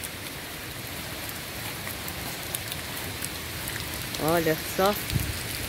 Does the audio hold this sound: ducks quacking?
no